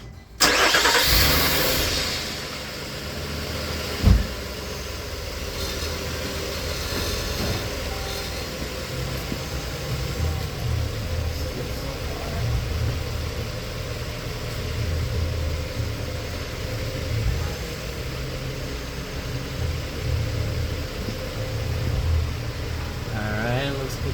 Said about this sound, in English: I'm gonna turn on the car and I'm gonna go turn right, see if I get any rubbing